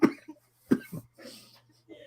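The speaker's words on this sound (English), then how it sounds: "Excuse my my coughing." A man coughs several times in short bursts, a loud cough followed by a few quieter ones, close to the mic, with faint background noise.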